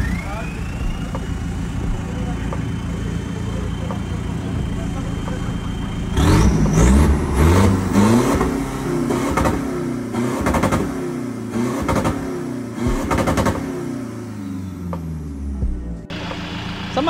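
A tuned car engine idles steadily, then revs hard several times in sharp bursts, loud and close, settling back between each rev.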